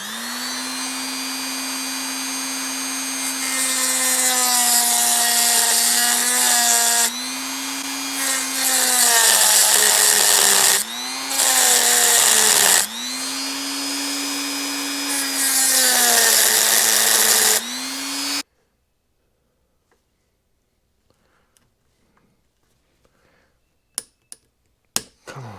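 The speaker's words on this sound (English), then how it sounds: "Let's get the Dremel and make it a flathead." A Dremel rotary tool cuts a slot into a screw head on a Honda XL185S motorcycle, whining loudly in several bursts with pitch dips under load, then falls silent except for a few faint clicks.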